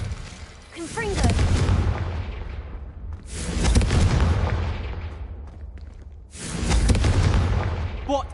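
Explosive spell blasts in Hogwarts Legacy, three heavy booming bursts about three seconds apart, each flaring loud and then rumbling away, with game voices shouting incantations over them.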